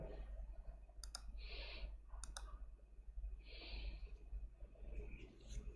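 A computer mouse gives several sharp, close clicks, some in quick pairs, over a steady low hum with faint background noise.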